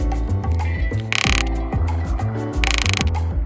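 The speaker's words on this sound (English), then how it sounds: "Holes are punched so that the band can be sewn." A hand punch drives holes through a leather headband for Grado SR80 headphones, giving a steady run of sharp mechanical clicks and ratcheting snaps with two brief harsh bursts, close and alone.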